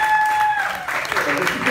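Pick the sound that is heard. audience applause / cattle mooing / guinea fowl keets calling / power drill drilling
audience applause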